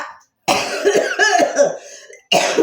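A person coughs in a few harsh, rough bursts, close and loud, separated by short pauses.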